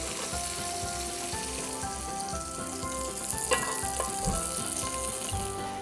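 Shrimp sizzle and crackle steadily in a hot pan, close and fairly loud, with a few brief scraping clinks partway through.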